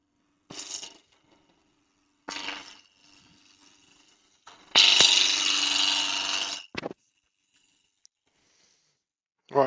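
A roughing gouge runs over a wooden spindle on a fast-spinning lathe to knock off its edges, giving a few separate bursts of harsh, broadband scraping. The longest and loudest pass lasts about two seconds, with quiet gaps between the cuts.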